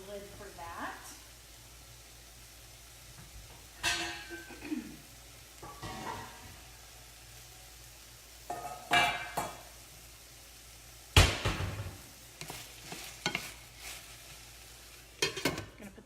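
Peppers cooking in a pan and being stirred, with faint sizzling under scattered spoon and pan clanks and a voice talking at intervals.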